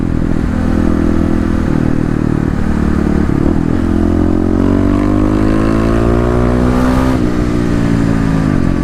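Kawasaki KLX351 dirt bike on a quick neighborhood test run with its secondary throttle blade removed, the single-cylinder engine loud and close, rising in pitch as it revs and accelerates through the gears.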